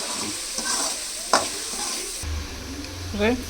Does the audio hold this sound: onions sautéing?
yes